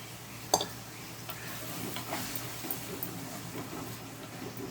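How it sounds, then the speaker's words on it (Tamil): Three tomatoes sauté in oil for an Ambur-style dried-fish curry, giving a soft, low sizzle with faint stirring scrapes and a sharp utensil clink near the start; the whole sound stays quiet and close. "அதில் வந்து ஒரு 3 தக்காளி அளவு எண்ணெயில் வதக்கிக்கலாம்"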